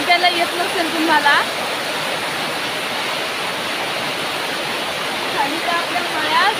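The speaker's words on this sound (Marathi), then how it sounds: "पहाटेपासून असला तुफानी पाऊस पडतोय" Torrential rain pours steadily over a Konkan village, a dense, loud, unbroken roar that fills the whole scene, with faint chirps briefly poking through near the start and end.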